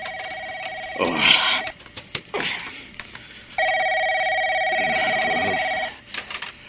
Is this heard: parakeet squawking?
no